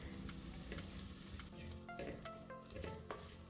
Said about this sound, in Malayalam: ഇനി പച്ചമണം മാറുന്ന വരെ നമുക്ക് നല്ലോണം ഒന്ന് റോസ്റ്റ് ചെയ്യണം.